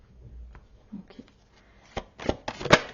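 Tarot cards shuffled and cut by hand, a few soft riffling rustles building into sharper snapping bursts toward the end, close and fairly quiet.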